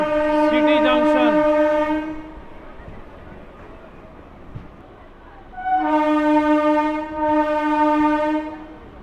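Local train pulling into Krishnanagar City Junction, its horn blaring in two long, loud steady blasts, the first opening the clip and the second returning after a lull of rumbling rail noise and distant chatter.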